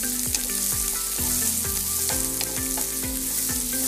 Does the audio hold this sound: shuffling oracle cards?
no